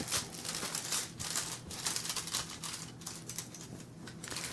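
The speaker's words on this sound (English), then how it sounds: "I'm going to fold the foil over on itself. And I'm going to rub it." Crinkly rustling and scraping of thin foil being folded and rubbed, close up, in uneven bursts without speech.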